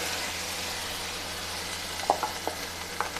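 Onions dropping into hot ghee for a karela chana dal, giving a steady close sizzle and hiss, with a few light stirring knocks toward the end and no talk.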